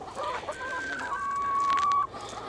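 Backyard homestead chickens cluck and call close by, a mix of short clucks and a couple of sustained tonal squawks over light outdoor background.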